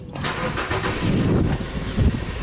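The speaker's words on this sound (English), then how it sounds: "so I'm going to start this vehicle and leave it for a while" Nissan Versa with a battery-draining fault cranking briefly and catching, then settling into a loud steady idle close by, with no talk over it.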